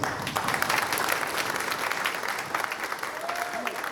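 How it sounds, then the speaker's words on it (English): Sustained audience applause at a men's conference during an interactive poetry session, dense and steady for the full four seconds, with a faint voice briefly rising over it. "Clap if you are sitting next to someone amazing."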